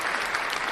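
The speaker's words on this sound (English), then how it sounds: "I'm giving you a round of applause too" A brief round of applause, a short burst of dense, even clapping with no voices over it.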